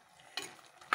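A spoon stirs tomatoes and prawns into an ivy gourd curry in a pan, giving two short scraping bursts with a faint sizzle between them, close and fairly quiet.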